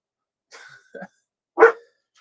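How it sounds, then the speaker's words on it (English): A dog barks once loudly, up close, after a couple of brief vocal sounds, with silence around it. "Stop, dog."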